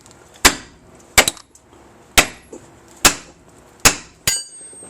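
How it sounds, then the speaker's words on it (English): Six sharp metallic hammer strikes, spaced roughly a second apart, drive a tool in to pop a castle nut joint loose while changing the transmission on a 1997 Pontiac Grand Prix, loud and close with short ringing decays. "I drove this in here like this with the hammer."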